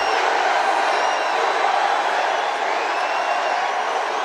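A large rally crowd cheers and roars in a dense, continuous wash of voices, loud and sustained throughout.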